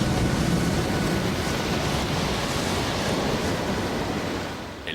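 Stormy Atlantic Ocean waves heard from a small boat, a steady loud roar of rough surf and wind filling the whole clip without pause, easing slightly at the end.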